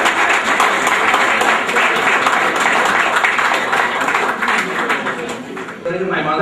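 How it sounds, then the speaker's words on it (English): A crowd at a school get-together applauds loudly for an honoured teacher, a dense continuous clapping that stays strong before tapering slightly near the end, with some voices mixed in. "Give a big applause for Shackleton"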